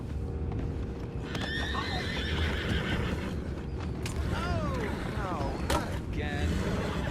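Horses in the video game Red Dead Redemption neigh and whinny several times over steady hoof clip-clops and creaking tack, with faint voices in the background.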